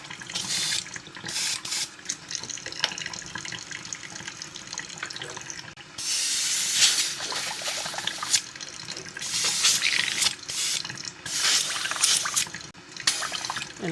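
Water from a faucet rinsing out a fishing lure mold, an uneven splashing rush that swells and drops in bursts, close and steady without speech.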